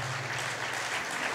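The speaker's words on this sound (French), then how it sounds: "Allez, je crois qu'on peut les applaudir." Brief burst of clapping from the audience at a film festival closing ceremony, fairly faint and distant, a short steady patter with a low hum beneath it.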